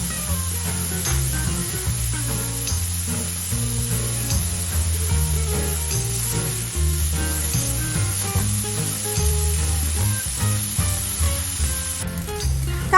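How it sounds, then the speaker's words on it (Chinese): Chopped bacon pan-fries over low heat, standing in for guanciale, giving a steady sizzle and crackle under continuous background music. "再来将切好的培根小火煎至金黄色。"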